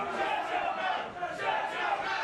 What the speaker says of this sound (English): You can hear this Gym Wars crowd telling Markus Mac to shut his mouth at ringside